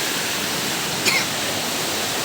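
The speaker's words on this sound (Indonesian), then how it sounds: "dari sini kita bisa lihat langsung air terjunnya di sebelah kanan kita" Campuhan Waterfall rushes in a dense, steady roar heard from nearby, unbroken apart from one brief click partway through.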